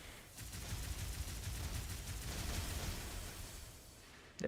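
Long-range artillery and rapid weapon fire from a mech in the game Armored Core, a dense rumbling barrage of repeated booms that holds steady for several seconds, loud and with no talk over it.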